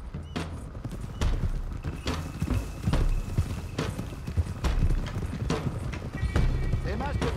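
Horses gallop in Red Dead Redemption 2 with rapid, rhythmic hoofbeats from several riders, joined by a brief whinny near the end and talk over the ride.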